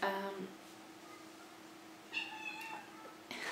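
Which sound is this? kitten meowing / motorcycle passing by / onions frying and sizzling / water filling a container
kitten meowing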